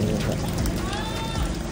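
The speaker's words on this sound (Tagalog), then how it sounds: "Ulan-ulan pa ng konti dyan." Light rain falls steadily on surfaces outside a house in Mindanao, a soft continuous patter close to the microphone with a faint mechanical hum beneath and no clear talk.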